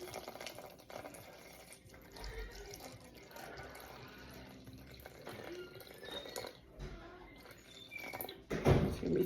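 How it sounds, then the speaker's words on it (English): Water, about 350 grams, poured into a bowl with salt while making sourdough. It gives a quiet, steady trickle and splash, ending in a slightly louder gush. "I'm going to put my water, which is 350 grams"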